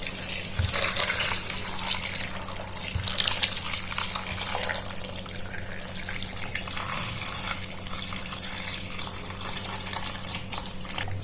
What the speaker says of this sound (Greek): Με λίγο βραστό νερό λοιπόν θα ξεπλύνουμε το κρέας